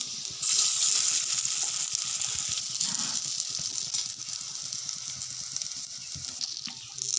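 Semolina rings sizzle in oil in a kadai over low gas, making a steady, close, hissing fry that runs unbroken throughout with faint rattling underneath.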